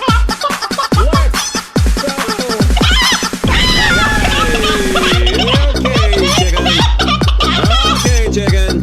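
Clucking chicken from a Breath of Fire SNES game, a busy run of repeated fowl calls with a sustained squawking stretch in the middle, loud and continuous throughout.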